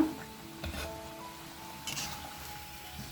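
Kurum kurum snack pieces fry in oil over a low flame with a faint, steady sizzle, broken by a few soft clinks and bursts of crackle.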